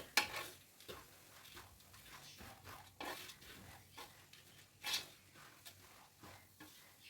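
A spoon scrapes and taps in a pan while beaten rice (aval) is stirred with jaggery syrup, giving quiet, intermittent strokes with sharper clinks every second or so.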